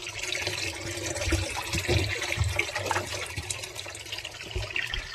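Water runs steadily from a tap, a continuous splashing gush with occasional soft knocks and movement sounds nearby.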